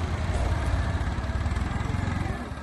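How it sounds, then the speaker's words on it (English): A small tractor engine chugs steadily nearby, a low, throbbing idle with a regular pulsing rhythm and no talk over it. "He's incredible with his little tractor."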